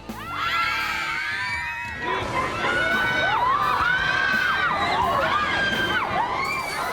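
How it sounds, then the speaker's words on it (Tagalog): Crowds on theme park rides shriek and scream continuously, with many overlapping high, wavering voices and shouts forming a loud, dense wall of excited cries. "paingayan at lakas ng sigaw ang labanan, wala na raw tatalo sa mga theme parks."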